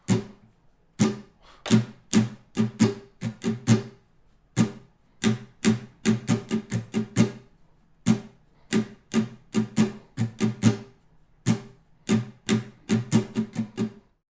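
Percussive acoustic guitar strumming in a steady repeating rhythm pattern, sharp down and up strokes with brief muted gaps, played alone and up close.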